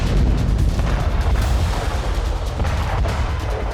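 Bombs dropped on a secret site on the outskirts of Tehran, heard as loud, continuous booming and rumbling blasts that pile into one another, with no voices.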